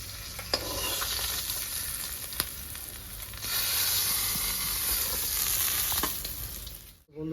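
Small rohu-type fish frying in hot oil in a village-style kitchen, a dense continuous sizzle with occasional spits and pops, loud and close, ending abruptly.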